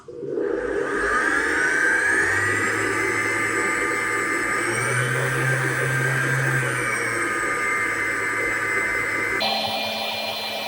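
A stand mixer on low speed kneads cold mocha bun dough without the butter, giving a steady, loud motor whir with a faint rhythmic low thump that runs continuously and then shifts tone near the end.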